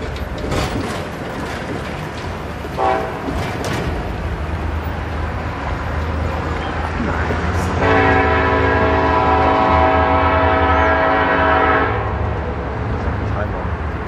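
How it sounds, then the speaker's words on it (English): A train rumbles past close by and sounds a loud, sustained horn blast of several seconds partway through, with people talking and a clanking rail rumble throughout. "Ooh, here comes a train."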